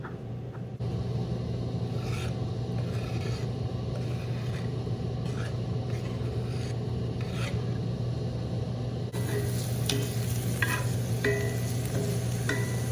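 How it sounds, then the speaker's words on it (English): Steady sizzling of chopped chicken sausage frying in a pan, with occasional scraping and stirring clicks over a constant low hum. "chopping up 2 links of chicken sausage, and then we're going to fry that up in a pan"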